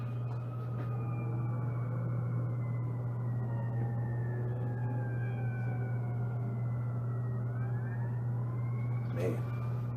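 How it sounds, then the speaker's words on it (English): Ambulance siren passing along a Las Vegas street after a shooting, a long falling and rising wail that sits faint and steady over a strong constant low hum and traffic rumble, with no break for the whole stretch. "There goes another ambulance up there"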